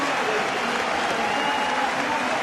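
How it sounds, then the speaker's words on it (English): A Leicester Tigers rugby crowd gives a steady ovation at their home ground, with dense, sustained clapping and murmuring voices at an even level throughout. "he's going to get some ovation."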